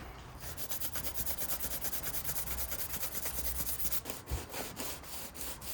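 Steady, rhythmic rasping of 60-grit sandpaper worked back and forth over a BMW Z4 Coupe front bumper, close and continuous for several seconds before a few slower, scattered strokes.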